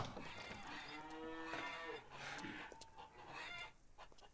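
Farm animals in the video game Lumberjack's Dynasty: cows give long low moos while chickens cluck around them, a faint, busy barnyard mix lasting several seconds with no voices.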